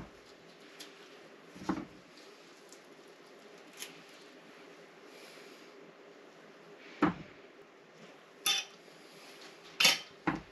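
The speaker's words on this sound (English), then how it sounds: "Then I go back around it again to cut it into quarters, and then it generally just peels off to some degree." A knife cuts around a black walnut husk to quarter it, giving a handful of quiet, sharp clicks and scrapes spread unevenly over a faint, steady background with no talking.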